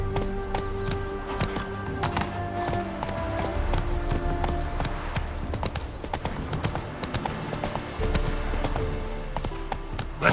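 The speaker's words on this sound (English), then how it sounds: "Spooking my horse." Horse hooves clip-clop in a steady galloping rhythm in The Witcher 3 video game, close and continuous under faint game music and ambience.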